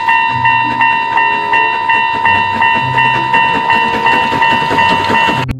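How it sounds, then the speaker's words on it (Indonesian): A Thomas the Tank Engine toy train chugs along with a steady repeating rhythmic clatter under a constant electronic tone, loud and close, stopping abruptly at the end. "Wih, di sini ada kereta Thomas."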